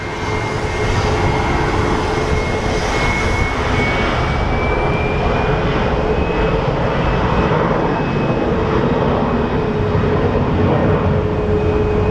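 A KC military tanker aircraft departs Phoenix Sky Harbor for training, its jet engines producing a loud, steady, broadband roar with a faint rising whine that continues throughout, heard from nearby outdoors.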